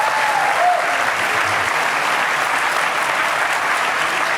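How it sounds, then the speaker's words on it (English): A full audience at a U.S. Senate debate in Wisconsin claps loudly and continuously, a thick wash of applause that holds steady from start to finish. "That means you can clap."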